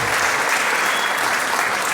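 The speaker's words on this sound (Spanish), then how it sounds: "Bueno, aplausos para Ceci." An audience at an international congress applauds steadily and densely throughout, a continuous wash of clapping with no pauses.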